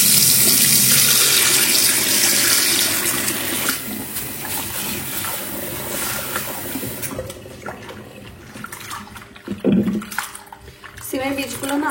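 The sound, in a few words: washing bean seeds under running water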